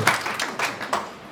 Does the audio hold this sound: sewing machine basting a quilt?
no